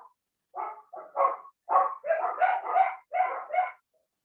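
A dog barks and yips in a quick series of about eight close, loud barks in bursts, some clustered together, against an otherwise silent room.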